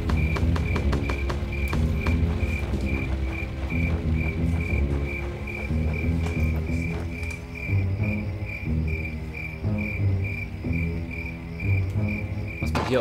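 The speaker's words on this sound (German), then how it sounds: "weil es Nacht ist, so die Grillen zirpen und sowas immer im Hintergrund" Night-time crickets in Conflict: Desert Storm chirp in a steady, evenly pulsed trill throughout, layered over a dense game soundscape with low rumbling and scattered clicks.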